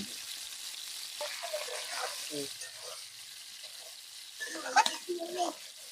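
Ground spices and turmeric sautéing in a pan for a spicy chicken curry: a constant soft hiss of frying with intermittent stirring scrapes and a cluster of clinks near the end.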